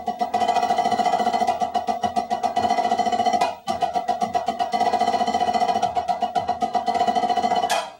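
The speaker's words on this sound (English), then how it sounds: "line number 6, we have our first double stroke roll exercise" A practice drum double stroke roll exercise plays as a steady stream of rapid, evenly paired stick strokes, loud and close, pausing briefly near the midpoint before resuming with the same dense rhythm.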